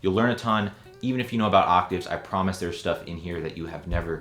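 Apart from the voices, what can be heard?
None of the usual background noises is heard.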